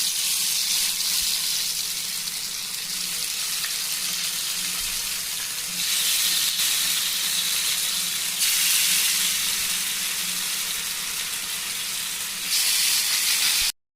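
Masala-coated fish pieces frying in hot oil in a pan, a steady loud hiss and crackle throughout with brief surges in intensity, no talking.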